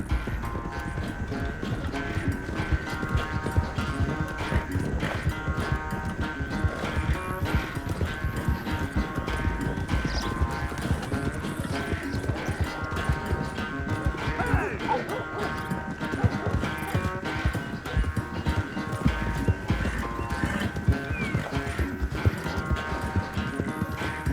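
Horse hooves galloping in Red Dead Redemption II during a race to the final stretch, a steady rapid clip-clop running throughout under a busy bed of game sound, with occasional brief voices.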